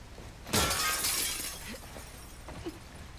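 Glass shatters in The Last of Us Part II video game, one sharp loud crash with a bright spray of shards that trails off, followed by a few faint tinkling pieces.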